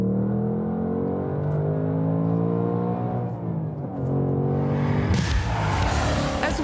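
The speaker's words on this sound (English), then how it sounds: "One of the best things about this car, though, is the noise." A Ford Mustang Dark Horse sports car engine revs loudly and steadily up through its range, then climbs sharply into a harsher, higher roar near the end, close and alone.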